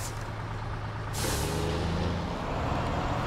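A heavy truck in SnowRunner idles with a deep engine rumble, then a sharp hiss of air brake release bursts in and settles into a steady loud hiss over the running engine.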